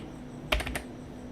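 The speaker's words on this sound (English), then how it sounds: "hit LL on your keyboard" Three quick computer keyboard key presses in a row, sharp close clicks over a faint steady background hum, with no talking.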